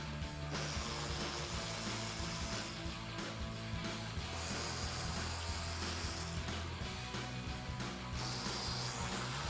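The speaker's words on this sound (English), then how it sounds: "take my 10mm socket on my ratchet and remove those" Ratchet fitted with a 10mm socket turning out bolts at the front end of a 2005-2009 Mustang, a steady clicking pawl rattle running continuously and fairly close, with no talking.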